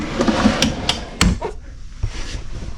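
A deep drawer slides and thumps shut in an RV interior, a few close wooden knocks and a scraping slide, then quieter room tone.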